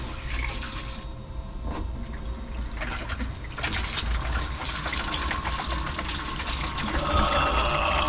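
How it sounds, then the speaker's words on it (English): Water streams steadily out of the exhaust outlets of a 2017 Sea-Doo GTI SE 130 jet ski, a continuous close splashing gush that swells slightly partway through. "All right, so water's coming out."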